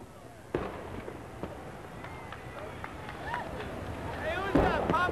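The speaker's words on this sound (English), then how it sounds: "let's share the fireworks display with you" A July 4th fireworks display goes off in the distance, with booming bursts and crackling pops spread through the scene and a heavier cluster near the end, over broadcast background noise.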